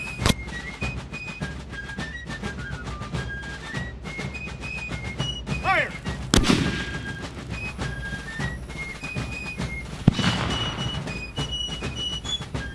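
A Civil War sweet gum mortar fires outdoors: one sharp, loud thump partway through and a fainter report later, with bird whistles and chirps around them.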